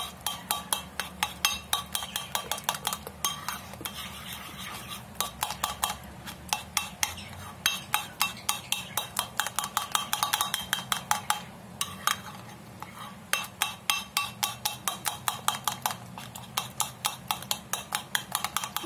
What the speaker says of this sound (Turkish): Yoğurtla mayonez birbirine iyice karışsın.